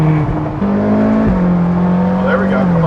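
Ferrari California engine in manual mode, a steady low drone with shift-like pitch steps while driving, loud and close inside the car, with voices talking over it.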